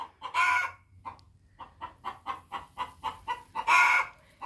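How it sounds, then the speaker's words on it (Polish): A hen clucks in a stable, giving a steady series of short, close clucks framed by two louder, drawn-out squawks at the start and end. "Kura nam gdacze."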